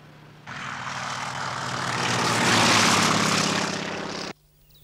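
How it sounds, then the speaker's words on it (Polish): The propeller engine of a PZL Wilga 2 agricultural aircraft roars loud and close, swelling steadily to a peak before cutting off abruptly, with a faint hum left afterward and no talk. "Uprowadzony samolot rolniczy Wilga 2."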